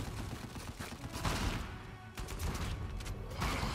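Rapid gunfire in Uncharted 4: A Thief's End survival mode, dense bursts and crackling shots filling the scene, with mechanical clatter mixed in and no talking over it.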